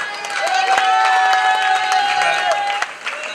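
Audience applause at a college cultural event, a dense burst of clapping with some crowd noise, loud and close, fading at the end.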